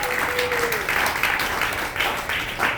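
A church congregation applauds and cheers, with steady, full clapping throughout, a single voice briefly audible early on and scattered louder bursts toward the end.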